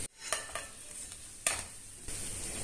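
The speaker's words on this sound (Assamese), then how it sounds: "আৰু একেদৰে মই বাকীখিনিও ভাজি লৈছোঁ" Sutuli pitha, Assamese rice cakes with a sesame filling, fry in hot oil with a steady low sizzle, broken by a few sharp clinks of a utensil against the pan.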